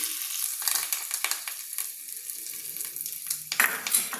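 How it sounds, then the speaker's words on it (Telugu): Curry leaves splutter in hot oil for a tempering, with a close hissing sizzle and sharp crackling pops scattered throughout and a louder burst near the end. "ఇప్పుడే చట్పట్లాడే కరివేపాకు వేసుకొని"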